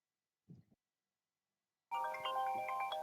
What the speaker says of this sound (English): someone's phone